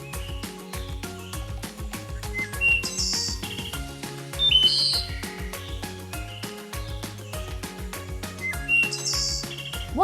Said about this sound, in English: Bird songs are so lovely to hear, especially in the morning and evening.